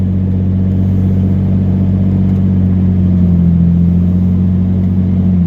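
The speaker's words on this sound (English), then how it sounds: "I got a car behind me." A car idles and rumbles on the road close behind, a steady low engine drone holding throughout with a slight rise in pitch near the end, no voices.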